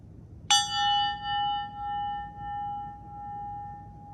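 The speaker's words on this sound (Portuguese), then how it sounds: "agora eu toco esse sininho para abrir para a gente esse ano" A small new bell struck once, close and clear, its bright ring lingering and slowly fading over several seconds with no talk over it.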